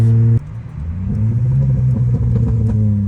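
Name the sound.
Holden VY Commodore V6 exhaust cracks and pops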